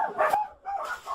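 Dogs bark from inside a filthy, overcrowded hoarder house packed with dogs and cats, two quick muffled barks heard from somewhat of a distance.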